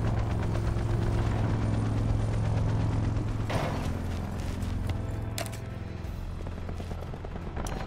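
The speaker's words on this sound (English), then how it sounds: "establish attack helicopter above" A loud, continuous roar of an attack helicopter in Call of Duty: Black Ops 4, its engine droning with rapid mechanical clattering and bursts of gunfire throughout.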